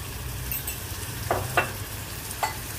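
Onion with red chili masala and kokum frying in a pan for a prawn dish, a steady low sizzle under a few soft scraping stirs, close and with no talk.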